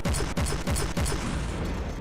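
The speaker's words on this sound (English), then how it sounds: "We got like a cannon up front, not very powerful." A front-mounted cannon on a player-built craft in the video game From the Depths, firing rapid rhythmic shots, about eight evenly spaced loud booms in quick succession, each with a short falling tail.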